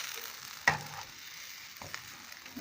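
A spicy bread omelette sizzles quietly in oil in a pan, a soft steady frying crackle broken by a sharp clack of a utensil and a few lighter scrapes, with no talk.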